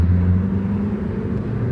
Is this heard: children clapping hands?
no